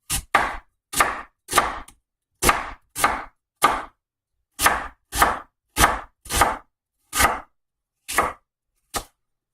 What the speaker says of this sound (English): Doesn't take much time to cut an onion.